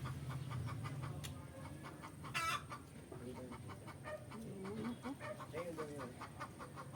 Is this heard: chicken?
yes